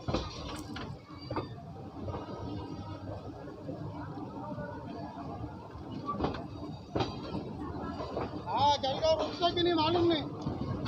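The 22455 Sainagar Shirdi–Kalka SF Express pulls in at Manmad Junction platform 1: faint metallic clanks, rattles and brake squeals, with people talking over the rolling train.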